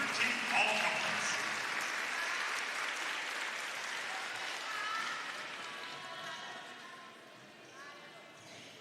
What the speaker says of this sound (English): Fans, another round of applause for the Conference Carolinas Women's Volleyball Third Team All-Conference.